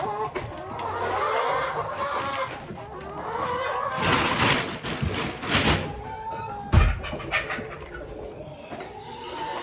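Hens cluck and murmur close by, with some rustling movement and a sudden thump partway through.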